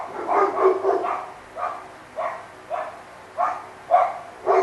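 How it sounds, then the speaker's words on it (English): Several dogs bark in short bursts, about eight or nine separate barks spread across the stretch at a moderate distance, with some uneven spacing and no talk over them. "Okay, they seem to be done barking."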